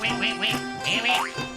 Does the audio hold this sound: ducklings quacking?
yes